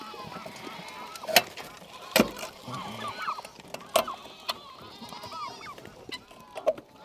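Goats bleat repeatedly around a feed bucket on a farm, several sharp calls scattered through a busy background of shuffling animals and distant murmurs.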